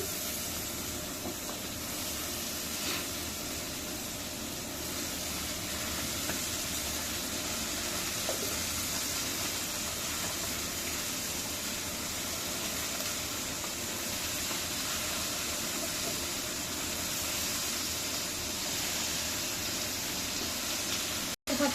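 Dried fish curry frying in a pan with vegetables just added, giving a steady, close hiss and sizzle that runs without a break and with no talk.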